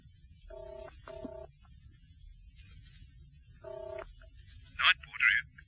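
A telephone is dialed in two bursts of stacked touch-tone beeps over a low background hum, followed by two short bright ringback trills; no one answers, and the whole sequence plays alone as a radio-drama sound effect.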